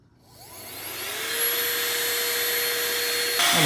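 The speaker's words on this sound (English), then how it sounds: "mini hair dryer, just kind of blow this out" A small hair dryer whirs up from silence into a steady high-pitched blowing roar, holding constant with a faint tonal whine.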